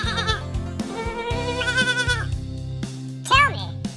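A voice imitates a billy goat, giving a few wavering, nasal bleats amid lively child-oriented chatter and a bouncy background melody, close and fairly loud throughout.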